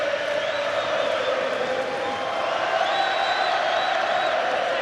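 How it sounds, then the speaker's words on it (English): A boxing arena crowd of Belfast fans keeps up a steady roar of cheering and shouting for Jamie Conlan during his fight against Jerwin Ancajas, a dense, continuous wash of voices with no pauses. "Belfast's faithful, Conlan's fans trying to raise the man."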